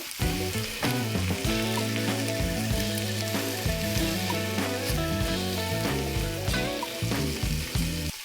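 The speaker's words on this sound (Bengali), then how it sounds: "মটনটা উল্টে পাল্টে ভালো করে ভেজে নেব।" Boiled mutton fries in a pan while being turned over for mutton posto, a continuous sizzling hiss mixed under loud melodic background music, no talking.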